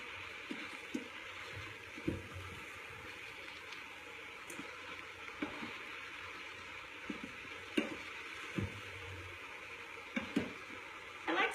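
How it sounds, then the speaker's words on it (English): Summer vegetables saute in a hot pan with a soft, steady sizzle, broken by occasional sharp knocks and stirring clatters of a utensil against the pan. "So we're going to let these saute, get it nice and hot."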